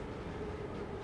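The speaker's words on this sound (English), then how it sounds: "So we're on the subway." A subway train ride in the video game SOMA: a steady low rumble of the rail car with a faint constant hum, heard alone and quite quietly.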